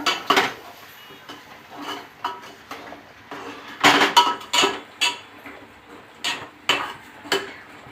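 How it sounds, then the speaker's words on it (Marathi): Chicken pieces coated in garam masala being stir-fried in oil in a pan, heard as a series of close, irregular clinks and scrapes of a spoon against metal, with no talking. "आता हे सगळं परतून घ्यायचं थोडस तेल सुटेपर्यंत"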